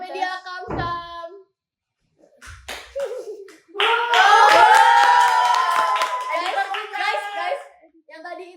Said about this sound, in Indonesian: Tepuk tangan yang gede.